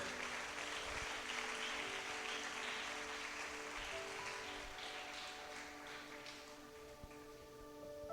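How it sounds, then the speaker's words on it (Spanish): A church congregation claps together in sustained, even applause that fills the room at moderate distance, with no voices over it. "Dale un aplauso al Señor."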